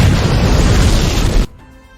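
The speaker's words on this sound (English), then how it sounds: "Explosions!" A loud, booming explosion from the video game Dragon Quest IV roars for about a second and a half, then cuts off sharply into quiet game background sound.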